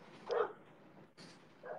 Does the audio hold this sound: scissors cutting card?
no